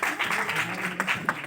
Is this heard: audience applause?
yes